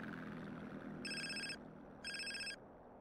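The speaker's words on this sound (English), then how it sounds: "Got a phone call." Cell phone ringing in the video game GTA San Andreas: two short electronic ring bursts about a second apart, bright and clear over a low background hum, no talking.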